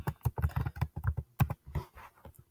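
A quick run of close keystrokes on a computer keyboard as a last name is typed, sharp, evenly paced taps with a brief pause near the end.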